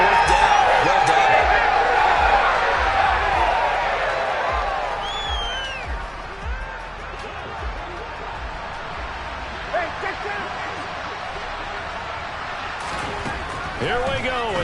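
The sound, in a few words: stadium crowd applauding the defense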